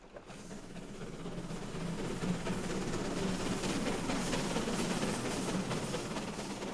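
The Ballenberg steam train climbs toward the Brünig pass at full steam, a steady, moderately distant rumble and hiss of locomotive and rolling wagons with faint rhythmic clatter.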